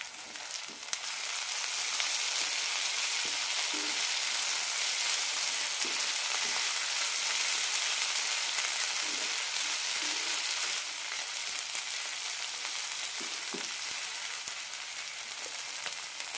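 Brinjal masala with crushed garlic frying under a lid in a covered pan, a steady close sizzle and crackle running throughout with small pops and no voices.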